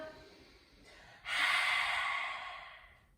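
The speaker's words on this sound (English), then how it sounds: "Big inhale through your nose. Lion's breath, stick your tongue out." A strong forceful exhale in lion's breath during a yoga workout, tongue out, following a quieter breath; the breath is close, breathy and sustained for about two seconds, then fades.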